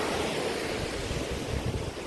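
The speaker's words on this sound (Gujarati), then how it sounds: "પાણીનો અવાજ બહુ આવતો હતો" Rushing river water churns where three rivers meet, a dense, continuous roar with gusts of wind buffeting the microphone.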